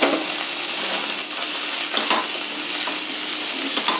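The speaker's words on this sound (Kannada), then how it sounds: "ಇವಾಗ ಈರುಳ್ಳಿ ಎಲ್ಲ ಚೆನ್ನಾಗಿ ಫ್ರೈ ಆಗಿದೆ." Onions fry in oil in a pan for an onion chutney, giving a steady, bright sizzle throughout with occasional faint stirring clicks, close and even.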